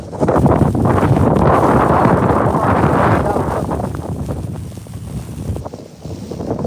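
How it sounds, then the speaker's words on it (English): Strong wind buffets the microphone outdoors during late-night fishing, a loud continuous rumbling roar that eases slightly toward the end. "This fucking wind is crazy."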